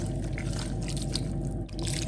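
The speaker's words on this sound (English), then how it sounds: "and I'll add water." Water pours steadily into a cooking pot already holding herring powder, all-purpose seasoning and salt for Volta-style okra soup, a continuous close trickling splash with no talk.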